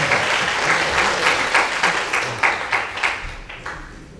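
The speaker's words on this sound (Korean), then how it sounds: "다시 한번 뜨겁게 하나님의 영광에 박수 치겠습니다" A church congregation at a March 1st Independence Movement prayer gathering applauds loudly and steadily, the clapping settling into a few rhythmic, evenly spaced beats before fading slightly at the end.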